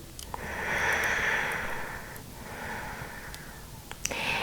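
A long, slow exhalation during seated wheelchair yoga, a soft airy breath that swells and fades, close to the microphone, with a second shorter breath following.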